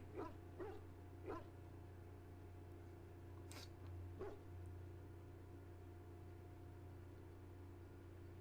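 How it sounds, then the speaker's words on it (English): A dog companion in the video game Dragon Age: Origins barks several times, short faint yips and woofs spread over a steady low hum and hiss of game audio. "what are you barking at?"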